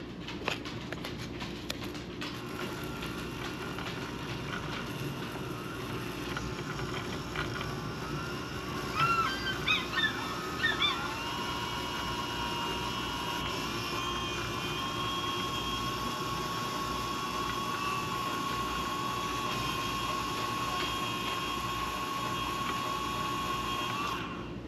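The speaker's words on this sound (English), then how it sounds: "We're going to turn the speed up a little bit and get this sanded down some and cleaned up." A rod-building motor spins a St. Croix Mojo Bass fishing rod during sanding, producing a steady, close mechanical whine and hum that holds throughout, with a few brief rattling taps midway.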